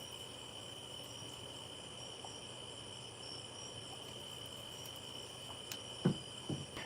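Crickets chirp steadily and faintly at night outside on a porch, a continuous high trill, with a couple of brief knocks near the end.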